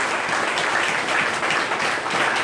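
A church congregation breaks into steady, dense applause to acclaim the Lord. Many hands clap together in a continuous, close, roomy wash of sound with no pauses and no one speaking over it.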